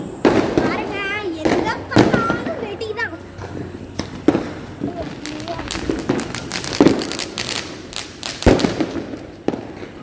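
Diwali fireworks and firecrackers burst from a rooftop view with repeated sharp bangs and crackling pops at varying distances, while people talk and children's voices are heard throughout.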